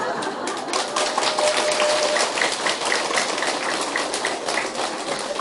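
Clapping from an audience at a Buddhist Avatamsaka Sutra lecture, a continuous dense patter of many hands lasting several seconds at fairly even loudness, with no speech over it.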